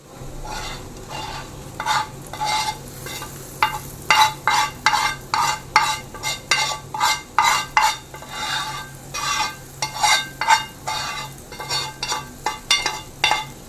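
A utensil scrapes and stirs rhythmically through a thick curd and potato curry mixture in a pan, with repeated clinking strokes and a faint sizzle underneath, no talking.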